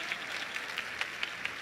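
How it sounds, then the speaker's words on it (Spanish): Applause from an audience at an educational talk, a faint, steady patter of clapping with a few sharper individual claps standing out through the short burst. "Un aplauso, hombre."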